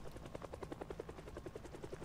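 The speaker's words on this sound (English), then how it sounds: "Well, the helicopter's still there." A helicopter in Project Zomboid gives a faint, steady rotor chop of rapid regular beats.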